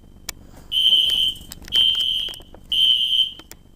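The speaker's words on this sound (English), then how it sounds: "SpectrAlert is going off." A System Sensor SpectrAlert smoke detector alarm sounds three long, shrill, evenly spaced tones, loud and close, with faint clicks between them.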